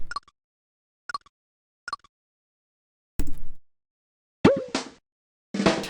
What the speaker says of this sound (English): Why does it make a weird snare drum sound?